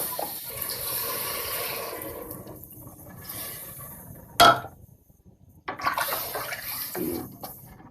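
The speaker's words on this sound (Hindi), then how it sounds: "मैं क्योंकि शोरबे वाला बना रही हूँ इसलिए मैं पानी थोड़ा ज़्यादा ऐड करूँगी" Water splashes and runs into a metal pot, with a clanking knock partway through and a few bursts of pouring.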